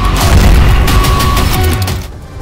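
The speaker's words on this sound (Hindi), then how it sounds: "गाजा के एक अस्पताल में देर रात मिसाइल आकर गिरती है" A loud, close blast and rumbling debris noise as a missile strikes a hospital in Gaza at night, sustained for about two seconds before dropping off.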